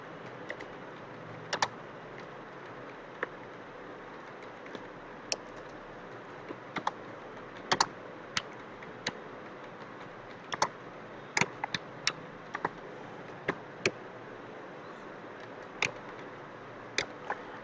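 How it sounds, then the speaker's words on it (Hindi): Scattered keystrokes on a computer keyboard while typing in MS Word, irregular sharp clicks spaced out over a steady background hiss, close and fairly quiet, with no talking. "हमने यहां पे सीधा कीबोर्ड के ऊपर से ही टाइप कर दिया"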